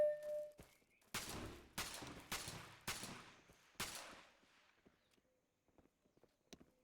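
Gunfire in a shooting video game: a quick string of five or six loud cracking shots at a steady rhythm, each with a short decaying tail, then faint scattered taps afterward.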